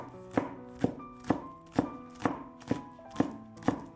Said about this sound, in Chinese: 几根小葱切成葱花